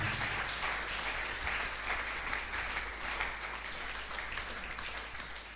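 A church congregation applauds together at a Sunday service, giving a dense, sustained wash of clapping throughout that tapers slightly at the end.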